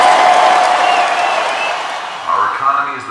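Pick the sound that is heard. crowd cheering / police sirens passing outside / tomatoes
crowd cheering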